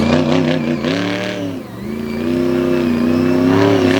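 A monster truck engine, a blue Silverado at an arena show, roars loudly, dipping briefly before revving back up into a sustained, throaty howl, close and dominant.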